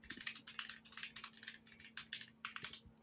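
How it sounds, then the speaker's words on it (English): Aggressive, rapid typing on a computer keyboard, with dense bursts of clacking keystrokes in quick clusters over a faint steady hum, close and without talk. "Aggressive typing."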